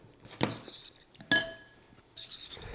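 A utensil clinks against a bowl while peanut butter is mixed into a perilla oil noodle sauce, with two sharp ringing knocks and softer scraping and tapping between them, close and without talk.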